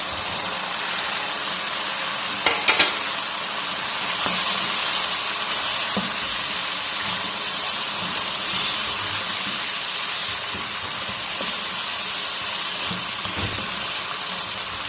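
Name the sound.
capsicum and onion cubes frying in pan for chicken jalfrezi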